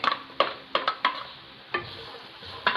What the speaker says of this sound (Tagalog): Gisa po natin yung garlic.